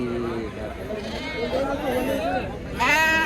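Amingada breed lamb at the Kerur livestock market, bleating a few times at close range, the loudest near the end, under busy bargaining voices of people talking.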